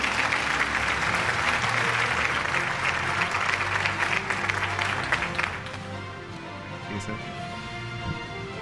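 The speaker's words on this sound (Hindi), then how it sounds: "आपकी भरपूर तालियों में।" Loud, dense audience applause at an annual news-network award show as a CEO is called on stage, sustained for about five seconds before dropping to a quieter room hum.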